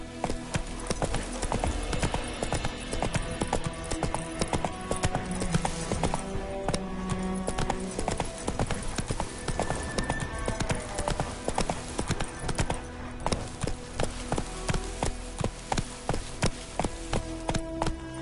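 Roach the horse's hooves clip-clop steadily over the ground in The Witcher 3, a continuous rhythmic trot that runs throughout under game music and ambience.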